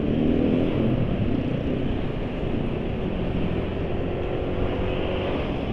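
A motorcycle engine running on Pertalite fuel, jerking and stuttering, gives a steady, loud, close drone with no talk.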